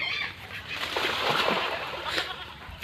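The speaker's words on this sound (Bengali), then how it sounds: "এখানে দেখো এই হাঁস জলে নেমে গেল আমায় দেখে" A duck slipping into the water in a rural village: a brief, soft splash with light water disturbance and faint fowl calls, heard at a short distance.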